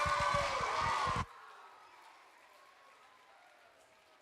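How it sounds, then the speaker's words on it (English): Applause from an audience welcoming a children's theater troupe at a Little Mermaid show, a loud dense burst of clapping that cuts off sharply after about a second, leaving a quiet room tone behind. "Will you give a warm round of applause to Bright Star Theater?"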